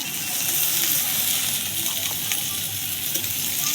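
Onion stalks dropped into hot oil with browned onions in a home kitchen pan, giving a steady, loud, continuous sizzle and hiss with faint bubbling throughout.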